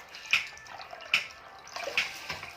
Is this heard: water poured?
yes